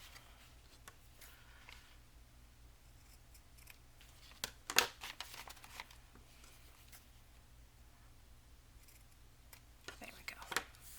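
Scissors trim a piece off the top of paper for an envelope craft, a few quiet crisp snips in a burst midway and again near the end, faint against a low background hum.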